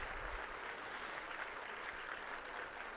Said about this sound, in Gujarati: એકવાર ઊભા થઈને જોરદાર તાળીઓ થવી જોઈએ